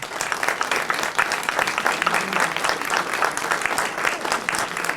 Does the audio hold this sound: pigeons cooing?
no